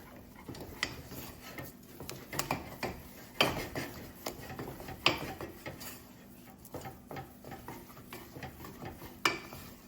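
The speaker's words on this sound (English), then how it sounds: "You're going to stir until some of that liquid has evaporated." A spoon stirs choux pastry dough in a pot on the heat, giving soft scraping and knocking strokes in an irregular rhythm, close and fairly quiet.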